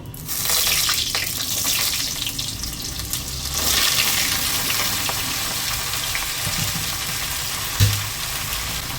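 Ridge gourd pieces frying in a pan with black and white mustard seeds and torn chillies, a loud hissing sizzle that bursts at the start, then settles into a steady crackle with a brief clatter near the end.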